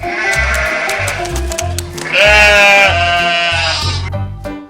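Sheep bleat repeatedly from a farm diorama sound effect, loud and close, with rhythmic low thumping beneath and a long wavering bleat in the middle before fading.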